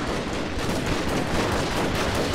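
Gatling guns firing in a battle video game, a dense, continuous rattle of rapid gunfire that fills the whole stretch loudly without pause.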